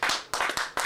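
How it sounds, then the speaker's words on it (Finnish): A few sharp hand claps ring out in quick succession on a music video set, bright and close with a short echo after each one. "Aplodit."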